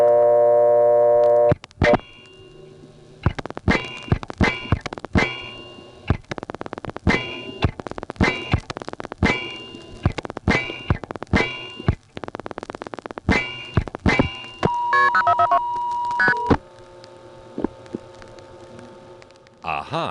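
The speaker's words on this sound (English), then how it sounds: "when you try to dial a long-distance call from one of their payphones, the identifier triggers and there's no last 4 digits" A 1976 payphone in Gap, Pennsylvania, sounds a rapid string of loud dialing tone bursts for a long-distance 1+ call, then a brief steady tone and a silent gap where the last digits should follow.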